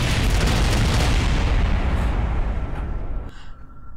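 A BD Armory laser weapon firing in Kerbal Space Program: a loud, sustained roaring blast lasting about three seconds, then cutting off abruptly into a quieter, fading rumble.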